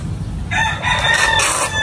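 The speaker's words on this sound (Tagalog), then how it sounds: "Tapos ay meron din po ditong manok." A rooster crows loudly nearby, one drawn-out call over a low, steady background rumble.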